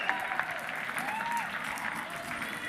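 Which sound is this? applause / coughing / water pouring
applause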